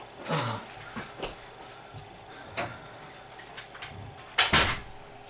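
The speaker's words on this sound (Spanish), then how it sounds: "Vamos a cerrar la puerta." A door in a classroom setting bumps and clicks shut, with a few handling knocks followed by a louder double thud as it closes near the end.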